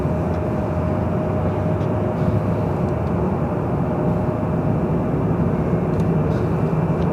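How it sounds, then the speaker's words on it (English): A 35-year-old Delta Airlines Boeing 757-200 at Los Angeles LAX gives off a steady, broad jet roar that holds even and loud through the whole stretch, with no voices over it. "Delta Airlines flight 8942 heading to San Antonio, Texas. 35-year-old 757-200"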